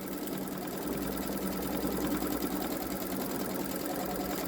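A Babylock Solaris embroidery sewing machine stitches out an edge-to-edge quilting design, giving a steady, close, rapid mechanical whir with a fine repetitive stitching patter and a low hum beneath.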